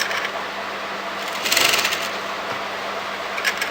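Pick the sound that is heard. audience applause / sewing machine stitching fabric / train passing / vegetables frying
sewing machine stitching fabric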